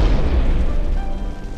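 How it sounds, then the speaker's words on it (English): A huge explosion booms loud and deep, a sustained rumbling roar that slowly tapers off, with no voices over it. "There has just been a huge explosion here."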